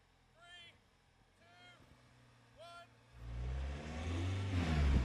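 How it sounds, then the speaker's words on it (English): A pickup truck, one of a Toyota Hilux, Ford Ranger or VW Amarok in sports-mode four-wheel drive, roars up an off-road hill. A loud, rising engine rumble follows several honking geese and brief talk. "I'm going to race the car up the hill"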